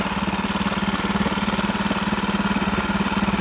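A Lehr 5 hp propane-fuelled outboard motor runs at a steady idle-like pace, its rapid rhythmic putter close, loud and unbroken throughout, with no voices.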